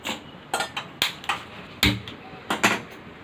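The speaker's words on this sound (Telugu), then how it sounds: "స్టవ్ వెలిగించుకొని కడాయి పెట్టుకుంది." Metal clatter as a stove is lit and a kadai pan is set on it in a home kitchen while chutney is made: a string of sharp clanks and knocks, some single and some paired, fairly close with quiet gaps between them.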